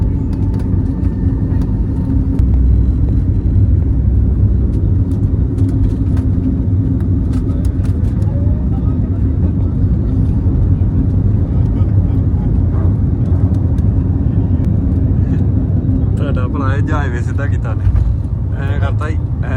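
Steady, loud low rumble inside an airliner cabin as the plane comes in to land, continuous throughout, with people talking over it toward the end.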